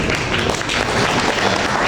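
An audience at a Kerala political speech bursts into applause, a dense, steady clatter of many hands at moderate loudness lasting a couple of seconds.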